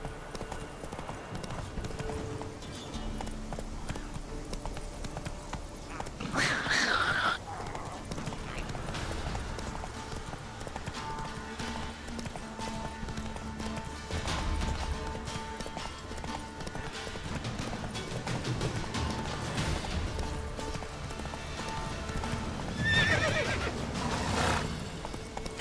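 Horse hooves clip-clopping at a steady gallop in The Witcher 3: Wild Hunt, with two loud whinnies breaking through, one early and one near the end, over a continuous game ambience.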